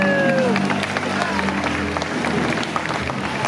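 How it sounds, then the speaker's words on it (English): Applause from a live audience at the Fear Factor Live stunt show, a steady wash of crowd clapping with some cheering, under music and a host's amplified voice. "Let's keep that applause going for our semifinalists"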